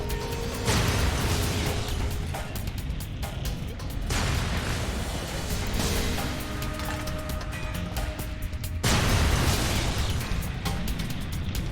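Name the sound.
grenade explosions in video game Fallout New Vegas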